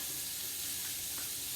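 Onions and peppers for paella sizzling in a hot pan over medium heat, a steady, dense frying hiss up close with a faint stir, no voices.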